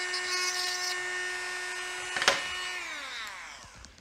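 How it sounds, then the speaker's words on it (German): A small power drill bores a hole in a plastic building-block plate, with a steady, high whine up close, a sharp crunch as the bit breaks through, then the motor pitch sliding down as it spins to a stop. "er hat Löcher in eine Plate gebohrt"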